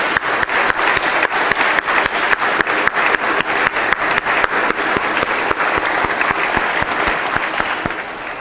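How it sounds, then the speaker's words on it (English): Sustained audience applause at a celebration-of-life memorial for a Vanderbilt basketball figure, a dense, steady wash of many hands clapping, loud and close, holding for several seconds before easing slightly at the end. "That absolutely deserves a round of applause."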